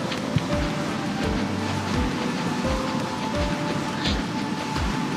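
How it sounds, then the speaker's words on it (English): Ocean surf on a sandy desert island in the video game THE DOG Island, a steady, loud wash of waves rolling on continuously with faint low swells throughout. "Okay, the ocean is over here."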